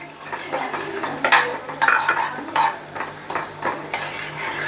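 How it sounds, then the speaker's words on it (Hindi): A spoon stirs and scrapes jaggery into browning sugar in a pan for peanut chikki, making steady, repeated strokes over a low sizzle. "अब मैं गुड़ को ऐड कर रही हूँ।"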